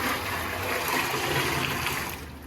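Warm water pours steadily and loudly for a few seconds, spread over honed engine cylinder walls, with no talk over it.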